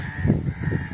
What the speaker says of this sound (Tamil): அந்த காக்கா இங்கே தான் எல்லாம் சாப்பிட்டுருச்சு